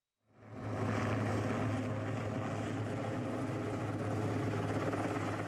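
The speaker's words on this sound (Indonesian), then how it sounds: "Petugas menggunakan helikopter milik BNPB untuk menjatuhkan air ke titik api yang masih menyala." A BNPB helicopter water-bombing a burning landfill fire at the Putri Cempo dump in Solo gives off a steady, loud rotor and engine drone that fades in quickly and then holds level throughout.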